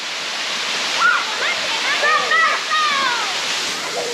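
The Vaudomo waterfall in Fiji pours in a constant, loud broadband rush of falling water, with people chattering and whooping over it.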